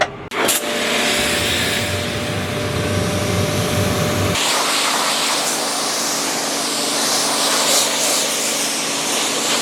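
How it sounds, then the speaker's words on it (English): A tractor being rinsed off with water on a farm, a steady broadband hiss of spray running continuously and fairly loud, with an engine-like drone underneath in the first few seconds before the spray dominates. "I'm going to rinse this thing off a little bit."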